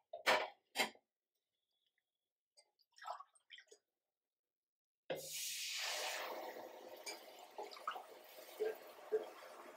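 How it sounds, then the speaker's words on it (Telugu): Water splashes and pours steadily into a pot of fried mutton for haleem, a continuous rushing sound after a few brief clinks and taps at the start. "మనం వాటర్ పోసుకుందాం ఇప్పుడు"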